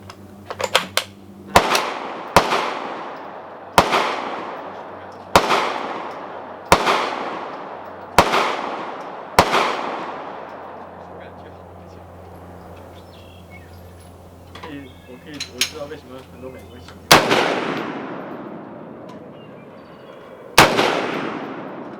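A Diamondback 308 AR10 rifle firing 150 grain Tula ammunition outdoors produces loud, sharp shots spaced a second or two apart, each with a decaying echo, then a quieter pause and two final reports.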